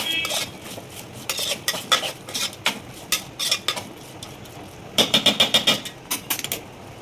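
Rice for a soya biryani being stirred with lemon juice, a spoon scraping and clinking against the pot in repeated bursts, with quicker rapid strokes near the end; close and fairly loud, no talking.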